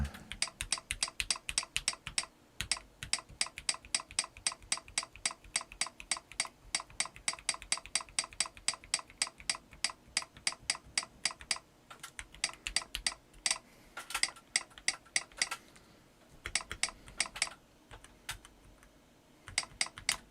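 Keys on a newly built CIY GAS67 mechanical keyboard are tested with fast, steady typing, a dense run of crisp close clacks lasting about twenty seconds with a few brief pauses near the end.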